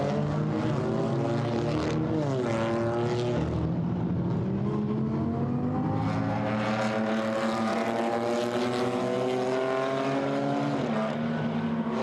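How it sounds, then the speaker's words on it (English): Race car engines lapping the Nürburgring during GT4 European Series qualifying, several engine notes rising and falling through gear changes, loud and continuous with overlapping cars passing near. "GT3, GT4 particularly, different shapes and sizes, different sounds as well, different engine notes"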